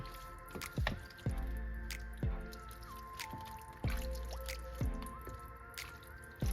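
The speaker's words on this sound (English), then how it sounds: "Get that beef broth down in there, like so." Beef broth poured into chili in a crock pot, a wet trickling and dripping with soft squishing splashes, close and fairly quiet, several distinct drip-like plops spread across the pour.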